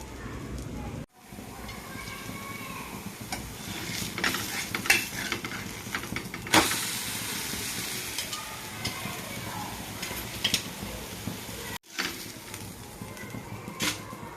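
Moong dal dhirde cooking in a covered pan on medium gas, giving a continuous soft sizzle with occasional scraping and light clinks of a spatula, alongside intermittent background sounds.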